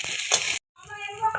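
Five-spice seeds, chopped onion and green chillies frying in a pan, a short burst of sizzle and stirring that breaks off and then resumes with a steadier hiss.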